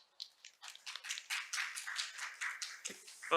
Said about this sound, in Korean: 여러분, 좌장님을 큰 박수로 모시겠습니다.